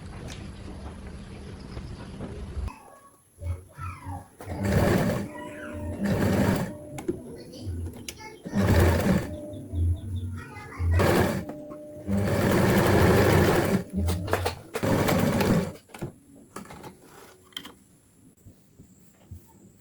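A sewing machine stitches a blazer's back vent in several loud, rapid bursts of whirring, separated by short pauses, close up and mostly alone.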